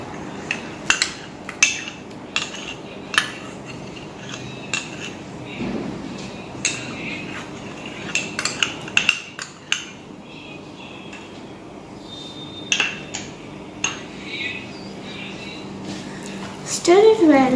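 Spoon scraping and clinking against a bowl while stirring chocolate cake batter with yogurt and baking soda, in uneven bursts of sharp taps over a quiet background.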